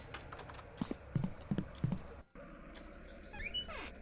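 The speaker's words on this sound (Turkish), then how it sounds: "Bir ayak sesi geliyor." A few distinct thudding footsteps in a video game (Slendrina Must Die: The House) sound in a slow rhythm, then cut off, followed by a quieter stretch with faint background noise.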